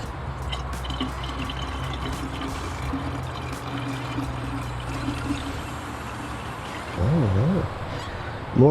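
Coolant drains from the bleeder of a Chrysler 300 cooling system in a steady, rushing pour, with a brief wavering squeak near the end.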